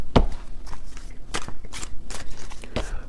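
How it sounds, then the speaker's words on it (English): Tarot cards shuffled by hand in a quiet room, a series of crisp riffling bursts and soft slaps spaced out over a few seconds, close and fairly loud with no talking. "I just shuffled this deck"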